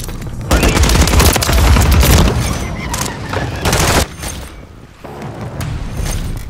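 Gunfire in Call of Duty Modern Warfare 3 multiplayer, a loud dense burst of rapid shots that fades and then resumes more quietly, with no talk.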